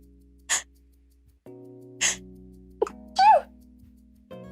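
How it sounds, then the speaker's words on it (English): A single sharp human sneeze breaks over a quiet room with a steady low hum, with short breathy gasps and a brief burst of voiced noise around it. "hold on, I feel a sneeze coming"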